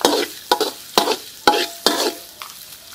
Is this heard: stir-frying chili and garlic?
yes